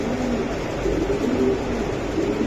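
Racing pigeons at a sale coo in soft, repeated throaty rolls that overlap one another, heard close against a loud, continuous background rumble.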